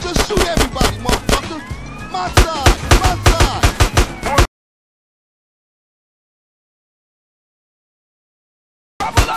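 Gunfire in a GTA San Andreas shootout during the Reuniting the Families mission: loud, rapid bursts of sharp shots for about four seconds, then sudden silence before a brief return of shots at the very end.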